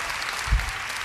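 Audience applause at the close of a CreativeMornings New York talk, a steady, moderately loud patter of hands filling a large room, with a brief low thump partway through.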